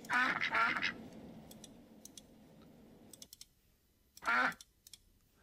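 Ducks in the video game Rollercoaster Tycoon 3 give short quacking bursts, a quick pair at the start and another a few seconds later, with soft keyboard clicks and faint park ambience in between.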